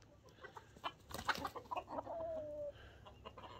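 Hens cluck in quick, scattered bursts with a brief squawk, some wings flapping, moderately near against a quiet outdoor background, as they chase a young rooster.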